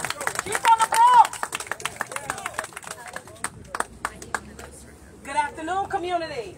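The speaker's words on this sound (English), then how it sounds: "Give a round of applause, y'all" A crowd at a Bronx community vigil claps and cheers amid lively chatter, with scattered sharp claps up close and loud overlapping voices shouting over them, then the noise eases before talk picks up again.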